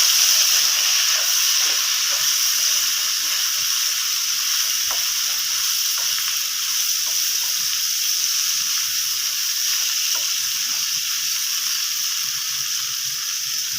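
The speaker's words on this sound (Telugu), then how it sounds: "క్యాప్సికం, ఇది కొద్దిగా వేగనివ్వండి" Capsicum frying in a pan gives a steady, bright sizzle that hisses continuously at even loudness, with faint soft clicks underneath and no talking.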